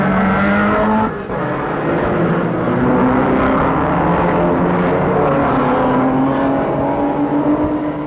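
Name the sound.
racing cars starting 1965 New Zealand Grand Prix at Pukekohe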